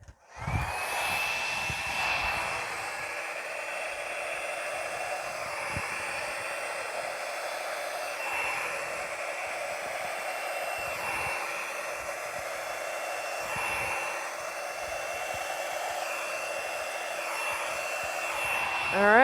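A hair dryer blows steadily and close on a paint pour, a continuous loud whooshing roar that wavers slightly in pitch as it moves, running without talk.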